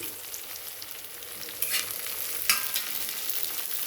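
Ridge gourd pieces fry in a generous amount of hot oil, giving a steady close sizzle with a couple of brief louder crackles and spoon scrapes over four seconds, no voices.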